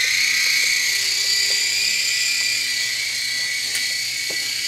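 Small RC toy helicopter with missile-firing button, propellers spinning in a steady high-pitched whir that holds throughout, close and fairly loud, with faint clicks and knocks underneath.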